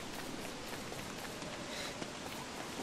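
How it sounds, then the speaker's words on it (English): Steady rain falls in the survival game Don't Starve on console, a dense, even hiss of drops that holds unbroken throughout with no voices over it. "Oh, here comes the rain."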